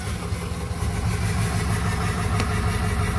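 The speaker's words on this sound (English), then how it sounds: "the misfire's getting worse than this" A flatbed truck idling with a worsening misfire, a rough, uneven low rumble with stumbling beats, close and steady, no one speaking.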